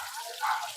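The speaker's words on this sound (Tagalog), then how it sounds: "sana rinig din pati pagbukas ng gripo, no?" A water tap is turned on indoors, giving a soft, brief hiss of running water that swells slightly midway, fairly quiet and heard on its own.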